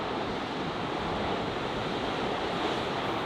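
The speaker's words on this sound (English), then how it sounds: "The waves are like a 4-story building tall." Huge ocean waves crash on a rocky coast along the coastal route between Caminha and A Guarda, a dense, continuous, loud roar of surf with no other sounds.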